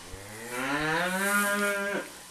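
A cow gives one long, close, resonant moo lasting about two seconds, rising and then falling away, with no other sounds around it.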